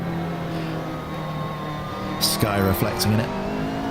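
A McLaren 650S GT3 race car engine revving in Assetto Corsa at Zandvoort, a steady droning tone that rises into a few sharp throttle blips near the end, heard beneath someone talking.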